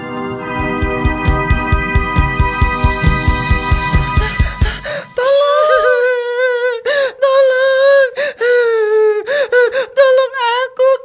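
A human voice imitates the breathing of a frightened young whale in an animated telling of the prophets. About five seconds of rapid, rhythmic panting gasps give way to loud, wavering whimpers and moaning cries.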